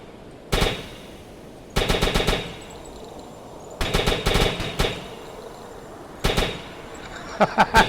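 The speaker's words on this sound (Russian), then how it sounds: "Я стреляю уже вовсю." Bursts of automatic gunfire from a submarine's deck gun in the UBOAT naval simulator: four separate rapid volleys, each a quick string of sharp cracks spaced a second or two apart, loud against a low ambient hum.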